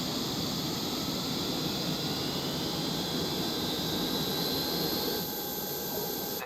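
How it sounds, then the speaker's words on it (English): Aircraft auxiliary power unit in the AirportSim video game, a loud, steady jet-like roar with a high whine that shifts slightly before cutting off at the end. "The APU is now fully operational."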